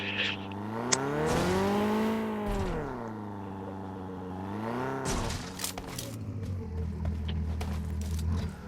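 A car engine in a video game hums and revs, its pitch rising and falling in smooth sweeps before settling into a steady lower drone, fairly clear with no talk over it.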